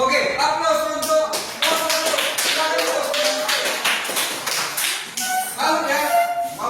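A classroom audience applauds a student group, a burst of many hands clapping in uneven rapid pats that carries on for several seconds, fairly close and loud.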